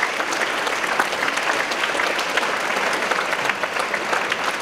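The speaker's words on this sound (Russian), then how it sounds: "Бурные аплодисменты тому подтверждение." A concert audience applauds an orchestra after a performance, a dense, steady burst of clapping that fills the hall without a break.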